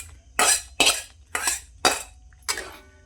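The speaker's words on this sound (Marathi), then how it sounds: "हलवून घेते." Peas being stirred into a paneer masala gravy in a pan: five distinct spoon strokes against the metal, each a short scraping clink, spaced about half a second apart, close with quiet gaps between.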